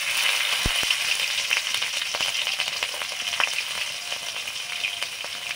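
Radhuni seeds and green chilies fry in hot oil for a tempering, giving a bright continuous sizzle with scattered crackles and pops and a couple of low knocks near the start, with no talking.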